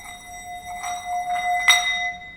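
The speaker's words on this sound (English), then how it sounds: "that scraping sound starts to happen because the sound waves can't pick up with how fast I'm spinning" A meditation singing bowl rings steadily as a mallet is circled around its rim too fast, and a rough scraping buzz repeatedly breaks through the tone in uneven bursts, close up.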